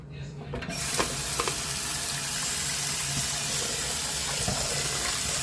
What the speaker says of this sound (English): Give them a quick little rinse off.